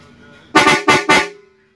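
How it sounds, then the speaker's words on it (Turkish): Mitsuba pipe-type air horns, rated at 115 decibels, give three loud, close, short blasts in quick succession, each a brassy honk ending abruptly. "Mitsuba tipi borulu çaçak kornalarımızın ses tonlarını ufak bir sunumla göstermek istiyoruz size"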